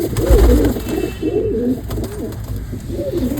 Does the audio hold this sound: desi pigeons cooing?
yes